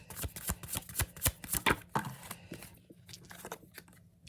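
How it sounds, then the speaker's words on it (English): Spirit oracle cards being shuffled close by, a quick run of sharp papery slaps and riffles in a steady rhythm that slows and fades into softer sliding sounds toward the end, with no voices. "let's get some spirit oracle cards"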